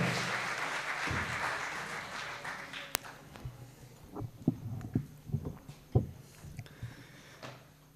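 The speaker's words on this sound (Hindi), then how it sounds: "एक बार जोरदार तालियां हो जाएं" Audience applause for a poet at a university poetry event, a dense burst of clapping at the start that thins into scattered individual claps and fades out.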